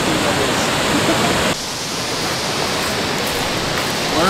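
An Alaskan waterfall roars with a loud, continuous rush of water that stays broad and steady throughout, dropping slightly midway as the view shifts.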